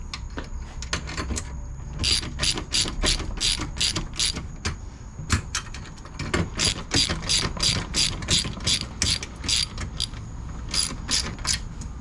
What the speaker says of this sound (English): We'll do a 10mm wrench. Should go a little faster.